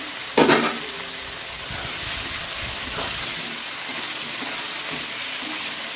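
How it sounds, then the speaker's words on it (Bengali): Boiled potatoes drop with a thud into a pan of sizzling fried spice mix, made without onion or garlic, then a steady close frying hiss continues with faint stirring scrapes. "আলুটা দিয়ে দিলাম।"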